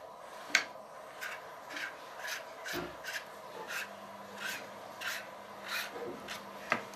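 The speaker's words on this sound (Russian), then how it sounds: "Вот наш удлинитель. Начинаем закручивать." The extension rod of a Feiyu-Tech SPG 3-axis smartphone gimbal is screwed in with a steady, close, faint scraping and rasping, repeated in regular twisting strokes with no talking.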